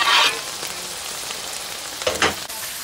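Fish and crab roe fry in a pan with a steady, even sizzle that runs throughout, rising briefly to a sharper crackle near the end; no one speaks.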